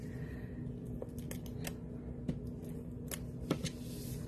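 Scissors snip through a strip of Pretty Peacock patterned paper during card making, giving a handful of short, crisp cuts spaced irregularly over a steady low background hum, close and fairly quiet.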